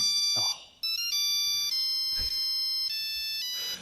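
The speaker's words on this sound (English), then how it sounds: "It is the old Nokia cell phone playing the theme." An old Nokia cell phone plays its classic theme as a ringtone, a loud, clear electronic melody of steady tones with one brief gap near the start and no voices.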